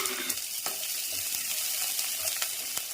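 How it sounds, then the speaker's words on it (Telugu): Chopped onions fry in hot oil with mustard seeds and curry leaves, a steady bright sizzle with occasional sharp crackles and stirring scrapes, close and continuous with no talking. "ఇది కొద్దిగా ఫ్రై చేద్దాము."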